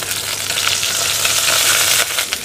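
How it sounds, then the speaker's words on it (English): Steady, close sizzling and crackling of madras spice and paste frying in hot oil for keema curry, with brief faint stirring scrapes. "Let that sizzle away too."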